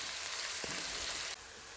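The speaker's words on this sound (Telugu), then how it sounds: "ఇప్పుడు ఈ ఆనియన్ గోల్డెన్ బ్రౌన్ కలర్ వచ్చేదాకా ఫ్రై చేసుకోవాలి." Sliced onions fry in a pan of hot oil until golden brown, giving off a steady, close, hissing sizzle with no voices.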